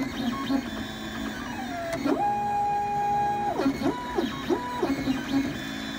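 A 3D printer prints an audio console bracket, its stepper motors whining in sustained and stepped tones over a steady mechanical hum, with short rising and falling pitch sweeps as the head changes direction.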